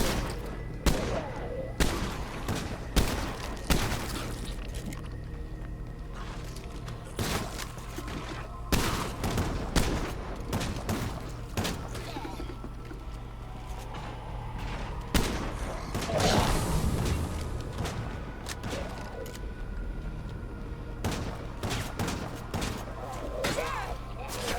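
Shotgun gunfire in the zombie survival game State of Decay 2: repeated sharp blasts fired at irregular intervals over a busy, rumbling background, with a voice talking now and then.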